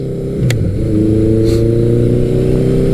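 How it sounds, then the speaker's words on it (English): A loud, deep engine drone rising steadily in pitch as a big air-cooled four-cylinder motorcycle accelerates hard under full throttle through its pipe, close by and continuous throughout. "the sound of a big air-cooled four-cylinder bellowing through a pipe under full acceleration"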